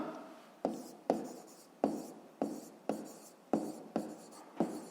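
Numbers are written out for a fifth-grade math exercise, producing about eight crisp scratching strokes in a steady rhythm, each a sharp tap fading into a brief scrape, close and alone.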